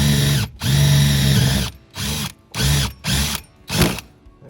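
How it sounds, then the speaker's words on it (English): A power drill bores at an angle through a vehicle roof during an antenna installation, five close, loud bursts of whining drilling separated by short pauses, with the motor pitch dropping as the bit bites. "I'm going to drill it a little bit of an angle so it kind of easier to fish down that way"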